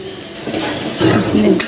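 Potatoes and onions frying in a pan, with a steady sizzle that grows louder midway, plus brief stirring and scraping as they cook.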